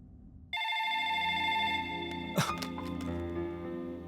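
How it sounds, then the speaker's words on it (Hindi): A telephone rings indoors with a steady electronic bell tone that starts abruptly and continues, briefly interrupted by a handling click or the receiver being lifted near the end. "Phone is ringing."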